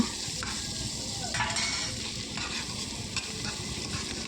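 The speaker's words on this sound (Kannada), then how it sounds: "ಸ್ವಲ್ಪ ಬಾಡಿಸಿದರೆ ಸಾಕಾಗುತ್ತೆ ನೋಡಿ ಸ್ವಲ್ಪ ಎಣ್ಣೆಯಲ್ಲಿ ಫ್ರೈ ಆದರೆ ಸಾಕಾಗುತ್ತೆ" Onions sautéing briefly in oil in a pan for khichdi, a steady close sizzle with repeated scraping strokes and light clinks of a spoon against the metal, no voices.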